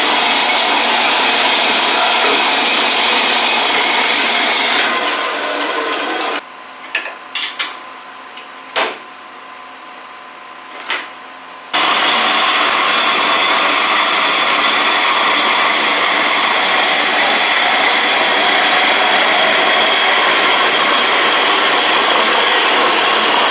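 A saw cuts metal pipe for a wastegate on a CX Racing turbo elbow, giving steady loud rasping strokes that pause midway for a few seconds of near quiet with some clicks, then resume.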